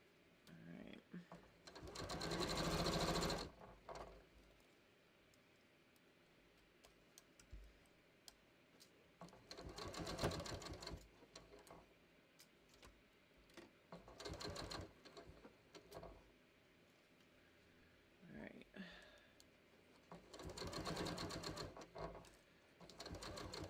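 A sewing machine stitching a quilt top: several close bursts of fast, even mechanical whirring a few seconds long, separated by quieter stretches with small handling clicks and a voice talking.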